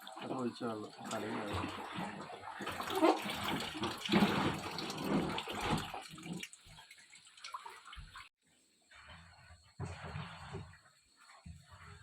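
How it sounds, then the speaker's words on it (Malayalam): Water runs and splashes as a pet fish's water is changed and the jar washed at night, a gushing flow heard under a voice talking, then a short pause before more splashing. "ഇവരുടെ വെള്ളം മാറ്റി കൊടുക്കണ്ടേ മീൻ മീനിൻ്റെ വെള്ളം മീനിൻ്റെ വെള്ളം"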